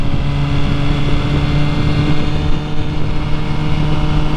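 MV Agusta Brutale 1000RR motorcycle cruising in fourth gear at about 54 mph in race mode, a steady loud engine drone with wind rush, close and continuous with no talk.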